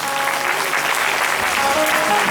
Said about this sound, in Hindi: एक बार जोर से ताली बजनी चाहिए।